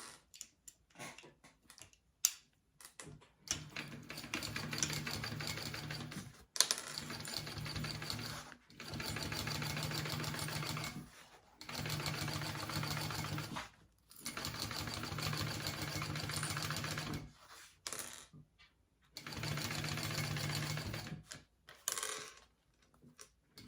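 Sewing machine stitching a seam on a bag at a wider seam allowance, heard in several bursts of steady whirring separated by short pauses and small handling clicks, fairly quiet and close, no talk.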